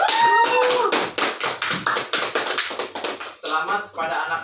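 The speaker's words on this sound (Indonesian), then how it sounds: "Kasih tepuk tangan dulu" A classroom of students claps for quiz winners in a quick, evenly spaced rhythmic pattern of sharp claps, close and fairly loud, with a brief burst of voices at the start and a murmur after the claps stop.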